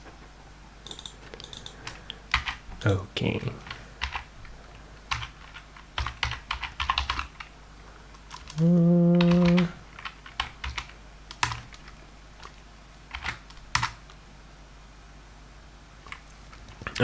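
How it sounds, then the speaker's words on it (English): Typing on a computer keyboard during a live programming session, steady quick clicks in uneven bursts with a held tone partway through, and one brief spoken word near the end. "Don't watch the keyboard. I know you're watching the keyboard."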